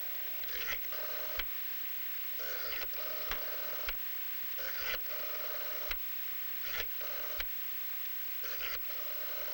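A 1960s telephone being dialed at home, a series of short bursts and clicks spaced across the clip with brief pauses between digits, clear and close with no talking.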